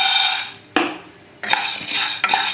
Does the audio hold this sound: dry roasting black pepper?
yes